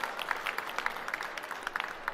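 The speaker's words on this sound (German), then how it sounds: "einen großen Applaus für den zweiten Platz in der Kategorie Direktvermarktung" Audience applause at a regional agricultural marketing award ceremony, greeting the second-place winner in the direct-marketing category: a steady, moderately distant patter of many hands clapping, unbroken and without talk.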